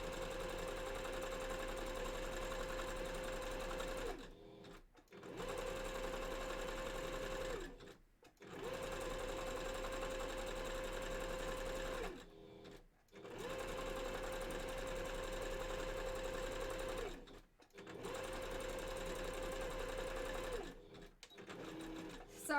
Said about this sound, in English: this is a very easy project to do on a sewing machine